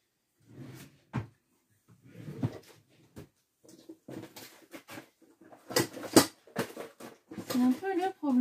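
Drawers and cupboard doors in a home are opened and shut in a run of clunks, slides and knocks, some sharp and fairly loud, scattered through the stretch with a voice talking in between.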